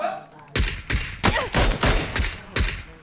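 Gunfire in the video game PUBG: seven or so sharp, loud shots in an irregular burst, some close and booming, each with a short echoing tail, alone without talk.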